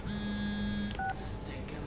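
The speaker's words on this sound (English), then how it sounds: "Oh, getting a fucking phone call." An incoming phone call in the video game SOMA: a sustained electronic tone, then a short higher tone and a few clicks, close and clear over a low background hum.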